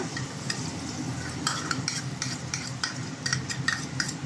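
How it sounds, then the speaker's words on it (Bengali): Spoon stirring spice paste into sizzling aloo kofta curry in a pan, with scraping strokes and clinks repeating in bursts over a steady close frying hiss. "সব মশলাগুলো দিয়ে একটুখানি আমি নাড়াচাড়া করি।"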